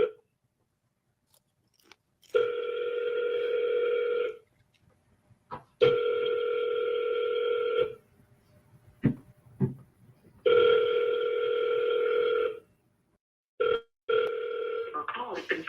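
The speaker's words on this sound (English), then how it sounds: "Your call has been forwarded to an automatic voice." An outgoing phone call rings with four long, steady electronic ring tones separated by pauses, with faint clicks and mouth noises in the gaps before the call is forwarded to voicemail.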